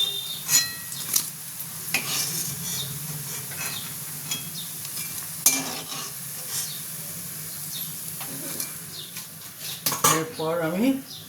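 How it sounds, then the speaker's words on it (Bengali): Metal utensils clink and scrape against a frying pan as fried lentil dhoka pieces are lifted out of hot oil, with a faint sizzle underneath and a cluster of sharper clatters near the end. "আমার ধোকা ভাজা হয়ে গেছে, এবার আমি তুলে নেব"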